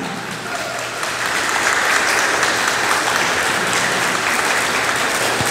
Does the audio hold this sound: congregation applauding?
yes